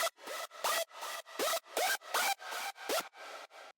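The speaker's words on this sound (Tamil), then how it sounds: "நான் வோக்கலுக்கு பதிலாக ஸ்க்ரீச் சவுண்ட் ஆட் பண்ணியிருக்கேன்." A synthesized screech sound built in Serum, used in place of a vocal in a remix, repeating as short rhythmic bursts about every third of a second, quiet and alone.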